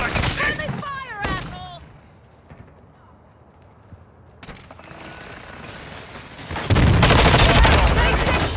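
Gunfire in a Call of Duty team deathmatch, rapid bursts of shots and impacts mixed with game voice lines, fading to a quieter stretch before heavy, loud sustained fire returns near the end.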